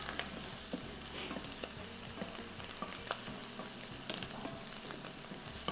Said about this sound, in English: And because these pop a little bit, I would just suggest just kind of moving around the pot.